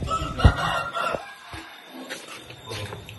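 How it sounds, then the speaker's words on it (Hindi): A rooster on a farm gives short clucks and calls, with a sharp burst near the start amid busy outdoor background noise. "और ये मुर्गा चेक करें मेरा"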